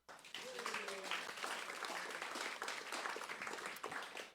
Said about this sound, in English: We'd also like to give a big round of applause for the Cottage Club